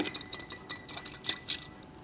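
Paintbrush swished and tapped in a water jar while painting, a quick run of bright clinking knocks and splashes in an irregular rhythm, close up and alone.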